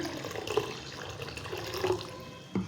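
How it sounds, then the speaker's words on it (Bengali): Water poured from a bottle into strained mango pulp for homemade Maaza-style drink, a steady close liquid pour with soft splashing that swells briefly near the end. "এখন আমি এখানে জল দিয়ে নেব।"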